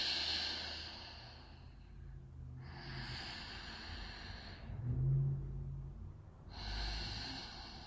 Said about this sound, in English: allowing a constriction at the back of your nose so that you sound like Darth Vader when you breathe